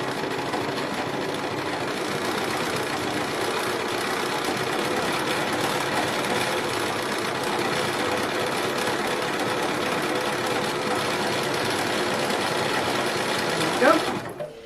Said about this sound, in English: I am doing decorative stitches. I am asking a lot of the machine.